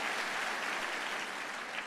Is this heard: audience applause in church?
yes